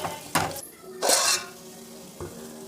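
Ginger garlic paste stirred with a spoon into drumstick pieces frying in oil, giving a few loud scraping clatters against the pan over a soft, steady sizzle.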